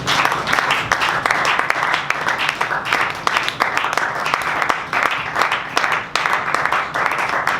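A church congregation claps and applauds loudly and steadily, many hands beating in a dense rhythmic patter, with voices mixed in underneath.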